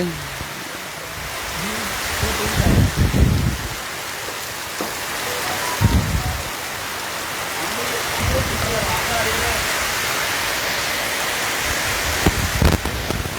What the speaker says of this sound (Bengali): দেখতে পাচ্ছেন প্রচুর বৃষ্টি সাথে বাতাসও আছে